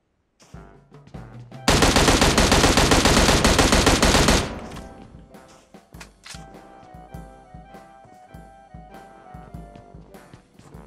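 Automatic weapon fire in PUBG Mobile erupts in a loud, close burst lasting a few seconds, followed by quieter scattered shots and clicks.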